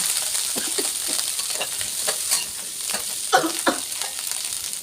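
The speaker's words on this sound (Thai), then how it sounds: "ยาก็มาคั่วหอมกระเทียมต่อนะคะ" Shallots and garlic dry-roasting in a pan for Thai chili paste, giving a steady soft crackle and sizzle with occasional sharper pops, close and continuous without talk.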